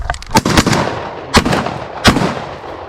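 Shotgun blasts while duck hunting on the Milwaukee River: three sharp, loud reports close by, evenly spaced about a second apart, with faint background noise between them and no talk.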